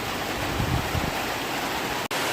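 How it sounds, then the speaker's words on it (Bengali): A sudden rain shower pours down steadily in a rural yard where ducks are out in the wet, a dense, even hiss that stays constant throughout with one brief dropout near the end. "হঠাৎ করে বৃষ্টি নামলো"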